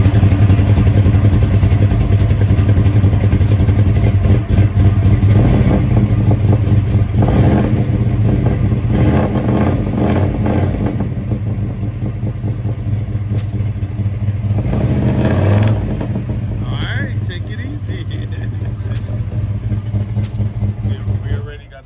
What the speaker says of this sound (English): You like the sound? It backfires, like popping.